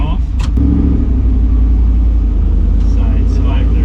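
An RC Toyota FJ45 rock crawler pulls away with a steady, close motor rumble that continues throughout, with people talking over it.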